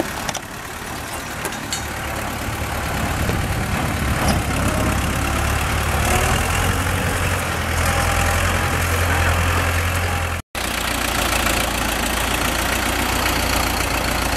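A 1991 Belarus 50-horsepower tractor diesel engine idles steadily, a close, loud, low, knocking chug that runs without pause except for one brief dropout, with no talk over it.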